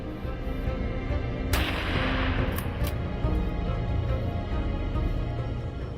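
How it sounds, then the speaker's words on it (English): A rifle shot fired during a wild boar hunt on a slope, one sharp crack with a brief echo standing out over steady outdoor background noise. "a teammate's shot rings out"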